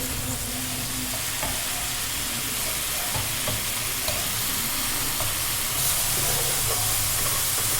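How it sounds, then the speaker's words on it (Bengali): Continuous loud sizzling of pasta frying in a pan as the water dries off, with occasional scraping and stirring clicks over the hiss throughout. "আমার এটা ভালো করে ভাজা হয়ে গেছে জলটা শুকিয়ে গেছে"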